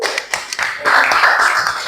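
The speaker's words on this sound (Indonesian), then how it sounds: "kasih tepuk tangan" An Indonesian classroom of students claps for a classmate after a poetry reading, a few scattered early claps growing into a brief, close burst of applause.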